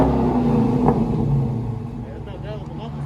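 A 2018 Dodge Charger 392 Scat Pack's 6.4L HEMI V8 with dual exhaust, mufflers still on, holds a steady loud rumbling rev near 4,000 RPM, with people talking over the engine drone throughout.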